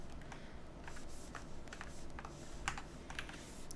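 Keys clatter on a computer keyboard during 3D modelling work in Blender, a fairly quiet, irregular patter of close presses and taps over steady background hiss.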